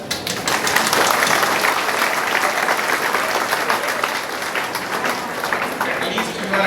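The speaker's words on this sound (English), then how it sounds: "can we have a clap once?" An audience at an academic technology and management conference breaks into sustained applause, a thick wash of many hands clapping close by, with some crowd noise mixed in.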